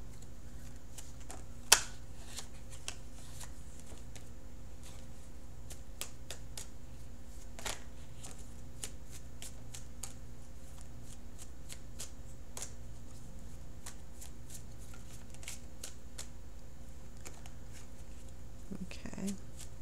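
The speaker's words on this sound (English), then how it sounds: "So I'm going to shuffle for an outcome card." Tarot cards are shuffled quietly for a reading, giving faint, scattered riffles and soft taps over a steady low hum, with one sharp snap near the start.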